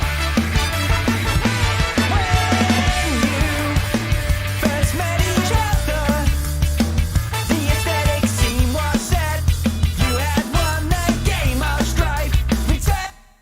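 A dense ska pop-punk mix plays loud and continuous with driving drums, bass and bright guitars, punchy hits in a steady beat throughout, ending abruptly.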